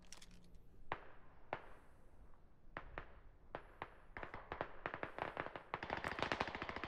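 Gunfire rings out in the tactical shooter game Squad, scattered single shots giving way to denser rapid bursts, sharp and fairly close, with the pace building toward the end and no voices.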